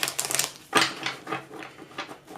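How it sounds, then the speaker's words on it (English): A deck of tarot cards being shuffled by hand, giving quick riffling clatters in a few bursts, close and fairly loud, with no voice over it. "I am going to shuffle a couple times on camera for you"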